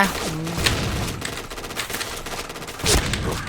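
Gunfire from a first-person shooter game crackles in a few sharp bursts, with a louder blast near the end, under a steady busy background.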